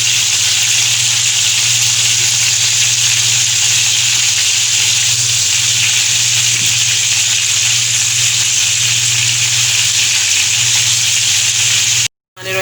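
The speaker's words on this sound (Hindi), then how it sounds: "अभी 2-3 मिनट 4 मिनट तक ये दूसरी साइड हम लोग फ्राई करेंगे इसकी स्लो आंच पे" Fish fries on its second side in oil over low heat, giving a steady, loud sizzling hiss that holds evenly for about twelve seconds before cutting off abruptly at the end.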